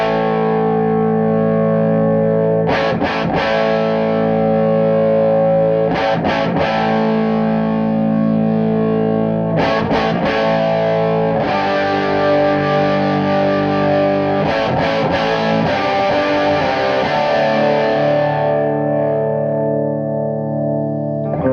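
An electric guitar played through an Orange Marcus King MK Ultra amp with all knobs at 10 rings out in thick, distorted sustained chords, with a few sharp strummed attacks breaking the long held notes, loud and alone.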